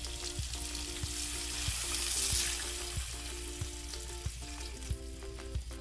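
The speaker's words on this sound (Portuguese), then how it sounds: "Eu vou acrescentar agora o leite." Milk poured into a hot pan with fried onion sizzles and crackles steadily, with light scraping taps from stirring and a soft hum underneath, close and alone without talk.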